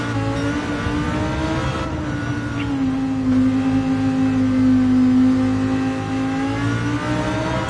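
A race car's engine in a racing video game holds a steady, loud drone with strong harmonics, swelling slightly midway as the revs climb and then settling, heard alone with no talk.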